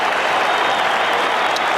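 Essendon supporters applaud at an AFL match between Collingwood and Essendon on Anzac Day, producing a steady, loud wash of stadium clapping and crowd noise that holds at an even level throughout.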